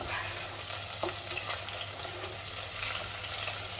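Chopped spring onion sizzles softly in a pan alongside tinned pilchards as it is stirred, giving a steady, low, continuous frying hiss without speech.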